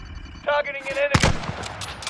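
Enemy gunfire in a video game, a sharp burst of shots cracking out after a tonal alert beep, with dense rattling following briefly.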